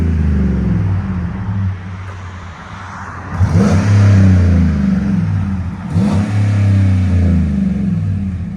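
A 2015 GMC Sierra pickup with a 5.3L V8 and an 18-inch Magnaflow muffler revs twice, its deep burbling idle swelling into loud, rumbling throttle blips before settling back down.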